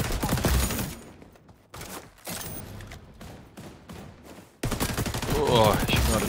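Rapid automatic bursts from a light machine gun in a shooter game, loud and close, opening with a dense volley, then thinner scattered shots and a final heavy burst at the end.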